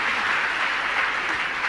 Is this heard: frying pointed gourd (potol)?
no